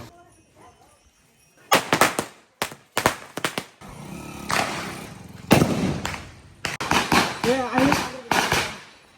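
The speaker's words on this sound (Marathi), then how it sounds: "बॉम्ब कसं लावायचं हे यांच्याकडून शिकायला भेटतं" Firecracker bombs burst at a Ganpati Visarjan street celebration, coming as loud sharp cracks in irregular clusters, some in rapid strings, with people talking and shouting nearby between the blasts.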